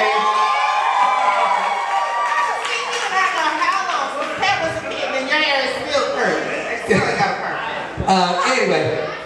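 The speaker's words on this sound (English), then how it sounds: "Scream for Jared, everybody" A drag show audience screams, cheers and laughs together in a loud, sustained crowd roar, with brief louder swells of whooping near the end.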